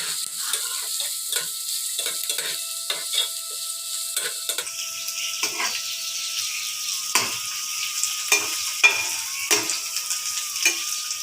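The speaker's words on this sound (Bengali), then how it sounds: "রসুন, পেঁয়াজ ও কাঁচামরিচ আমি তেলের মধ্যে ছেড়ে দিয়েছি।" Garlic, onion and green chili sizzle steadily in hot oil while a spoon stirs and scrapes the pan in irregular knocks, close and continuous without talk.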